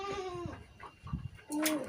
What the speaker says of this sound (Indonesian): Ini ada kambing doro, kambing kepala hitam